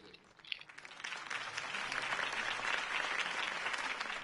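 A video-game crowd claps and cheers, the applause swelling from a sparse start into a sustained, dense ovation at moderate distance.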